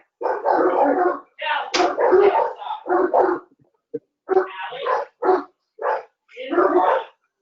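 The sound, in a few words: dogs barking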